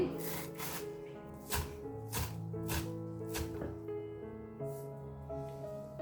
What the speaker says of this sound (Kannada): ನೋಡಿ ಇದನ್ನು ಕೂಡ ಸಣ್ಣದಾಗಿ ಕಟ್ ಮಾಡ್ಕೊಂಬರ್ತೀನಿ.